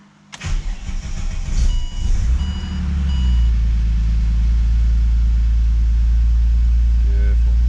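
A Ford XR6 Turbo engine cranks briefly then fires and settles into a loud, steady, deep idle close by, with a couple of faint beeps near the start.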